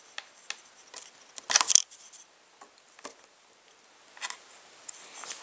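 A knife cutting off a plastic piece during a bark buster swap on a KTM dirt bike: quiet, sparse scraping ticks and snips with one denser burst of cutting, close by.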